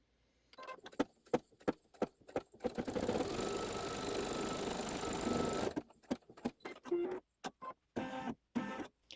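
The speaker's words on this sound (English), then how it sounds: "Now it'll sew down the outside edges." A sewing machine stitches down the outside edges of a quilt block, giving one long, steady mechanical whir between bursts of short stop-start stitching.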